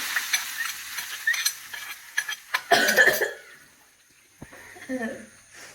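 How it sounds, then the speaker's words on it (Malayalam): Shallots, curry leaves and dried chillies fry in hot oil for a Kerala-style crab curry, giving soft crackling sizzles and stirring clatter with a few louder bursts, then fading to quiet near the end. "ചെറിയ ഉള്ളി, കറിവേപ്പില, ഉണക്കമുളക് ഇതെല്ലാം വറുത്തിട്ടത്."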